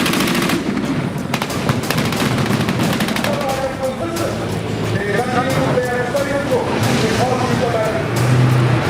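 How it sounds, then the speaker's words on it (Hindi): Rapid gunfire rattles on and off during an army tank live-fire demonstration at a military exercise, loud and dense with heavy bursts, while a voice speaks over it. "आज मैं आपको दिखाऊंगा लाइव डेमो कैसे टैंक से फायरिंग होती है"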